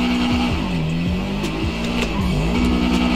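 A car engine revs high and fluctuates in pitch, with squealing tires, loud and continuous, in the video game GTA Online (GTA V).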